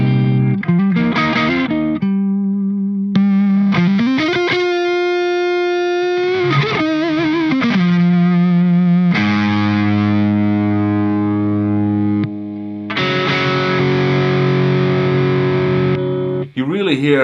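Electric guitar overdriven by a Human Pedals AMP DRIVER into a clean amp, played loud and close: bent single notes, sustained tones and ringing chords with focused, saturated drive.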